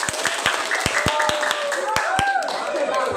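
Classmates clapping in a classroom after a group presentation, a brisk, uneven burst of hand claps close by with voices chattering over them.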